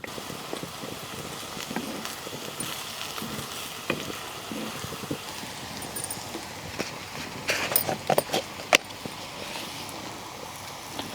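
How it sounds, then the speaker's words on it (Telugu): Sweet corn kernels fry in a pan for a corn capsicum masala, giving a steady close sizzle with scattered crackles and a few louder pops and stirring scrapes near the end. "ఈ స్వీట్ కార్న్ గింజలు దోరగా వేయించుకోవాలి"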